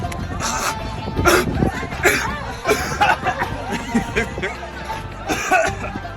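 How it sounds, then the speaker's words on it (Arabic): A few short, sharp coughs break through amid muffled chatter and background voices at a magic show in a park in Riyadh. "معليش كحه بسيطه بس."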